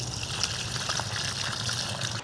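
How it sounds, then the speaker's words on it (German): Liquid plant manure poured from a watering can onto celery and other heavy-feeding vegetables, a steady close splashing trickle with no pauses. "Und mit der Pflanzenjauche, damit gieße ich hier meine Starkzehrer, wie zum Beispiel hier den Sellerie."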